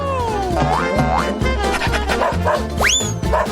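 A dog gives a string of loud, repeated barks and yips mixed with springy, sliding boing-like effects over a steady dense background, like a cartoon scene.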